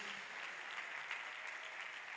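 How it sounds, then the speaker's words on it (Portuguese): A church congregation applauds during a Portuguese-language worship service, a steady, even wash of clapping that sounds somewhat distant and fairly quiet, with no clear voices rising above it. "Aplaude Jesus"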